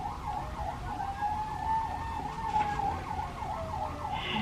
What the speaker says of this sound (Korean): 사이렌 소리가 들어가도 좀 이해를 해주시고, 어느 곳에 급박한 상황을 달려가고 있는 소방차니까요.